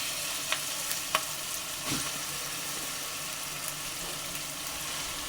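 Marinated fish pieces for a Telangana-style fish curry fry in hot oil, giving a steady crackling sizzle throughout, with a few sharp pops near the start and a soft thump of stirring midway.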